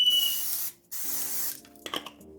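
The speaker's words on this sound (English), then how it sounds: "I'm using coconut oil spray." Coconut oil cooking spray hisses onto a hot Dash mini bundt maker in two short bursts, close and crisp, followed by light clicks and taps of handling.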